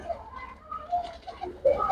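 Pure-bred flying pigeons kept for sale coo softly in a few low, rounded bursts, close by, with a faint murmur of voice underneath.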